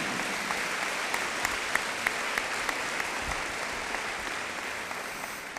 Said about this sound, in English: Please, again, give yourselves a round of applause.